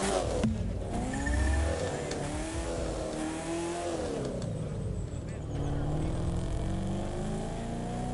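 A car engine in the racing video game The Crew 2 hums and revs steadily, its pitch rising and falling across the stretch, continuous and fairly loud.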